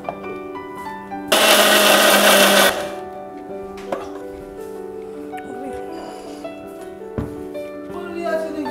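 A kitchen blender grinds spice paste with a little water in a loud whirring burst of roughly a second and a half, then stops while someone talks with household sounds around her.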